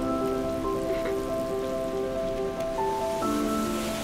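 Steady rain patters continuously, with soft sustained music playing underneath.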